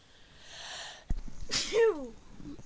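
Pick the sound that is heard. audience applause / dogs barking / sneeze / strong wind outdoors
sneeze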